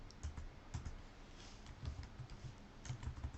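Quiet typing on a computer keyboard, irregular bursts of soft key clicks in small clusters, close and faint, no talking.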